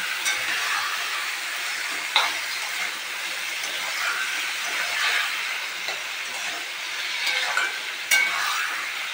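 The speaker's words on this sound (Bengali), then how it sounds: "চলো এখন ভালো করে নাড়াচাড়া করি।" Mushrooms stir-fried in a pan, making a steady broadband frying hiss with scraping stirs and a couple of sharper utensil clicks, close and moderately loud with no talking.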